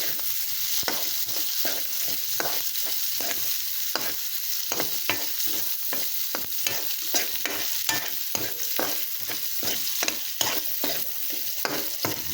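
Pork sizzling loudly in a hot pan with garlic and onion while it is stir-fried, a steady frying hiss broken by regular scraping strokes of the spatula, close up and without voices.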